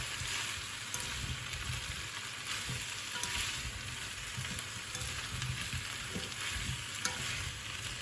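Onions and bacon bits (lardons) sizzle and fry in a pan for tartiflette while being stirred, giving a steady hiss with scraping and clacking stir strokes throughout.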